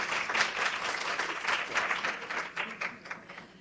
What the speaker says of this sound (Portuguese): Salva de palmas, gente, que ela é maravilhosa mesmo.